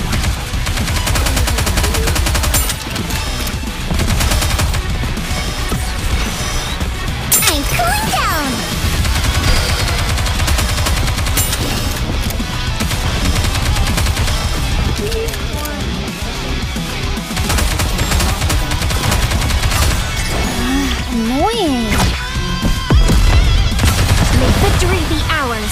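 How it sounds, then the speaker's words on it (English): Rapid bursts of gunfire from the anime-style shooter game Goddess of Victory: Nikke, loud and continuous, layered under game music and character voice lines throughout. "Open fire!"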